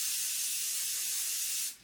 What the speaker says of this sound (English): I'm going to leave that cup, so I'm just going to give it a quick spray